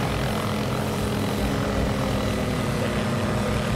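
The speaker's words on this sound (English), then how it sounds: "Go sideways, helicopter." A helicopter flying in the video game Garry's Mod gives a loud, steady rotor and engine drone that fills the whole stretch without pause.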